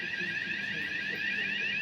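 A steady, continuous electronic alarm tone sounds throughout, loud and unbroken, with a faint murmur of background noise beneath it.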